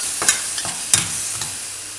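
Cauliflower manchurian with tomato ketchup is stir-fried in a pan, with a soft background sizzle and a few sharp spoon-on-pan clinks and scrapes spaced irregularly, close and moderately loud.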